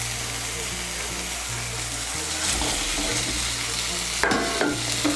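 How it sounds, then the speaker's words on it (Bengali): Fried potatoes are stirred into a sizzling, oil-released masala, with a steady fry hiss and a few scraping spoon strokes. One brief louder clatter comes near the end, and there is no talk. "আলুগুলোকে মিশিয়ে নেব, মশলার সঙ্গে মিশিয়ে নিয়ে আর একটু কষিয়ে নেব।"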